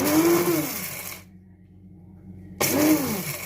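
A small compact electric grinder grinds roasted rice for larb in two loud, close whirring bursts with a pitch that rises then falls, separated by about a second of near silence.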